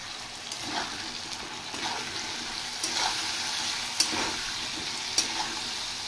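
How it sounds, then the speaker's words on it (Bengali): Potato and pumpkin pieces fry in a pan with salt and turmeric, giving a steady soft sizzle that is broken now and then by sharp clinks and scrapes as the pieces are stirred. "এবার নুন আর হলুদ দিয়ে প্রথমে আলু আর কুমড়োটা একটু ভেজে নেব।"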